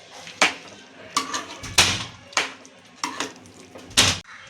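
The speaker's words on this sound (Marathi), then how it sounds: "सगळं घालून चांगलं मिक्स करायचं." Chicken korma masala being stirred in a pot with fried onion and tomato paste, a spoon knocking and scraping against metal in six or seven distinct clattering strokes at an irregular pace, close and fairly loud.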